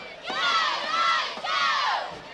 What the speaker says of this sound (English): North Webster crowd getting loud behind their boys